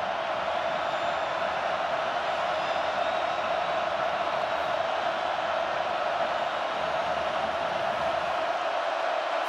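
A college football crowd at Oregon State against Oregon roars on third down, a broad, sustained stadium noise that stays loud and unbroken from start to finish.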